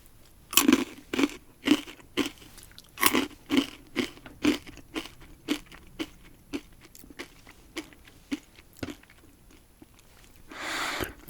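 Crisp, close crunching of barbecue-flavored corn snacks being bitten and chewed, a steady series of sharp crackly bites in a quiet setting with no talking.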